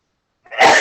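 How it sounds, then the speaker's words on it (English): A single loud, close human sneeze bursts out suddenly after a moment of silence, outdoors. "I'm going to sneeze."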